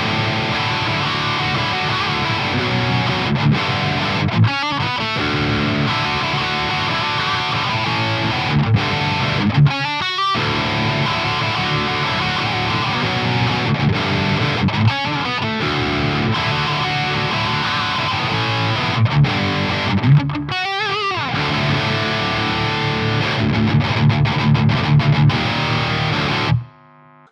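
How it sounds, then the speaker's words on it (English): Electric guitar with a Telecaster bridge single-coil pickup, played through a Joyo Zombie 2 high-gain distortion pedal, loud and saturated: sustained heavy chugging riffs broken by brief pauses, ending abruptly. "Considering this is just a bridge single coil on a telly, this is how much gain this amp has"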